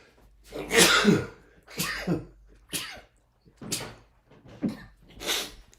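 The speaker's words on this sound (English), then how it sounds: "I'm about to sneeze" A series of six sharp, forceful bursts, a sneeze followed by coughs and throat-clearing huffs, close and loud with brief pauses between.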